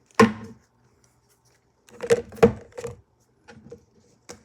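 Tarot cards shuffle in a few quick, crisp riffles, a sharp flutter first, then a cluster of taps and a couple of lighter ones, with silence between.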